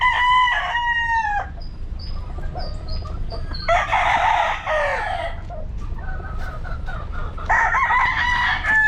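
A red gamefarm stag rooster crows loudly nearby, repeated several times with clucking between, over a low background rumble.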